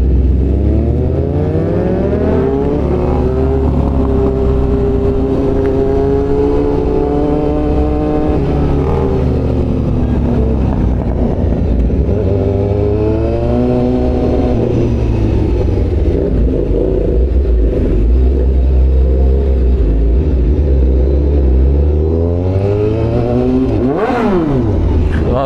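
Loud inline-four motorcycles with very short exhausts rev repeatedly at a bike meet, their pitch sweeping up and down in sustained, overlapping roars close by.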